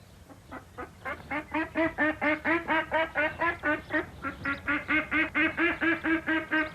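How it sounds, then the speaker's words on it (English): A flock of Aylesbury ducks housed in low farm sheds quack loudly and repeatedly in a fast, rhythmic chorus of nasal calls that carries on without pause. "they had all these Aylesbury ducks in low sheds"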